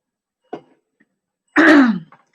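A single short cough, then a louder, longer throat clearing about a second later, close and distinct with no talk over it.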